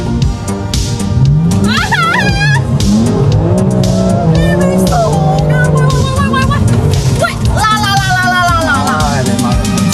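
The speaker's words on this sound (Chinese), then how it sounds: "车主准备表演一个甩尾漂移。" A car attempting a drift while turning around at a road junction, with sharp, wavering tire squeals over loud continuous engine and road noise.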